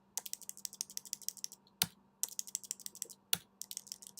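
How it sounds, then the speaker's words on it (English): Arrow keys on a computer keyboard pressed in quick repeated bursts of light clicks, with two louder isolated key strikes between the runs, close and clear over a faint steady hum. "use my arrow keys on my keyboard to nudge the ball over"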